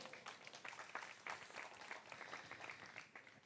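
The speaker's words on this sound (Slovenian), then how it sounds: "Ja, ploskajte, ploskajte." Audience applause at a book talk, steady faint clapping from a crowd lasting several seconds with no voices over it.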